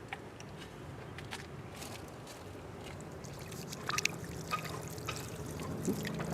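Water poured steadily over the soil around an orange tree outdoors in Bali, a continuous trickling wash with occasional splashes, moderately quiet and without talk.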